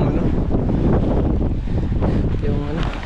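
Loud, constant wind buffets the microphone with a rough rumbling roar on a farm while covering silage, and faint flapping and rattling of a tarp come through underneath.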